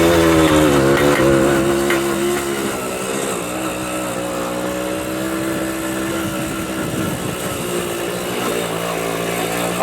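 A 1970 Kawasaki Bushmaster motorcycle with a slipping clutch climbs a big hill, its small engine buzzing loudly and steadily close by, revving high at first and then settling into a sustained drone.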